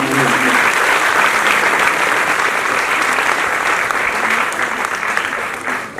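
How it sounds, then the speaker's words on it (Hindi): Loud, dense applause from an audience at a cultural festival event, a continuous wash of clapping that stays strong throughout and eases slightly at the very end. "आशीष अलार जी को जोरदार ताली दीजिए"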